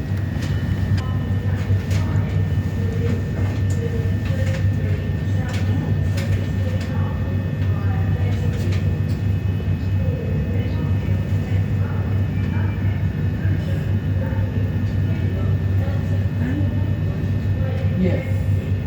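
A Southeastern class 376 electric multiple unit, number 376005, running from London Victoria to Lewisham, with a steady low rumble and continuous interior drone throughout, loud and close, with faint background voices.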